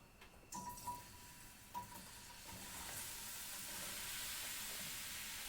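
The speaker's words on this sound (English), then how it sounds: "Now you'll notice that the sizzling is getting very loud" Mushrooms sizzle steadily in hot olive oil in a pan, the crackling hiss growing louder and denser over several seconds, with a few soft clinks near the start.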